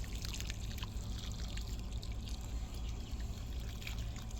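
Water from a garden hose at moderate pressure spatters steadily onto a soil bed outdoors, a continuous close splashing trickle with no talk.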